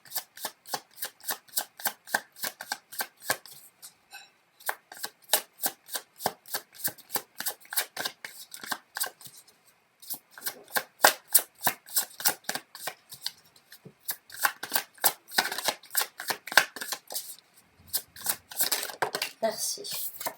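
Tarot cards are shuffled over and over in quick riffling bursts with short pauses between them, close and fairly quiet.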